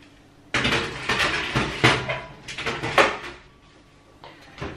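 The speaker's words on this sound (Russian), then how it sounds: "я ставлю мяско в духовку" An oven door opens and meat is set inside, a sudden clatter followed by several close metallic knocks and scrapes of a tray and rack, then a lighter bump.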